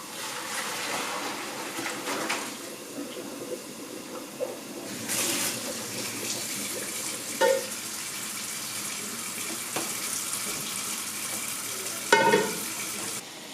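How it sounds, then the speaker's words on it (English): Cooked lasagna noodles are drained in a kitchen sink: a steady, close rush of pouring water runs throughout, with a few clanks of a pot or colander. "I'm going to go ahead and I'm going to drain this lasagna"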